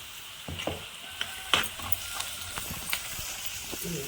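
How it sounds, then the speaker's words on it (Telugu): Tomato pieces with turmeric and salt hitting a frying pan, a faint sizzle under scattered stirring clinks and scrapes. "టమాటా ముక్కలు వేసేస్తున్నాను"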